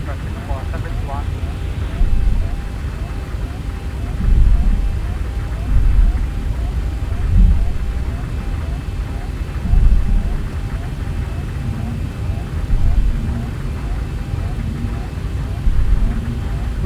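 An aircraft taking off in the X-Plane flight simulator, departing Jackson Hole, Wyoming: a continuous low engine drone swells in waves under frequent radio-style voice chatter.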